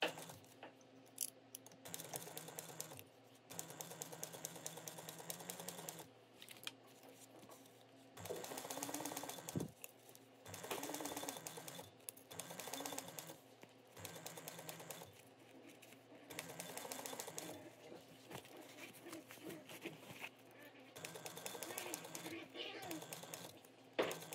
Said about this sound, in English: we are sewing this at a 3/8 inch seam allowance